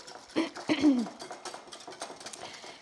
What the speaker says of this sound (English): So we're going to continue whisking.